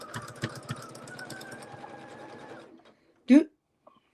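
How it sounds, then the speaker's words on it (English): A sewing machine back stitches a quilt, its steady close mechanical whir running for about three seconds, then stopping, with a short loud knock or thud just after. "You already know you need to back stitch, so do the back stitching first."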